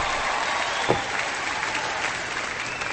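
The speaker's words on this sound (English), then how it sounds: "Cheap applause." Sustained applause from a crowd, a steady wash of clapping at moderate distance with no voices standing out.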